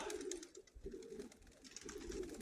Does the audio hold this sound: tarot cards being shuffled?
no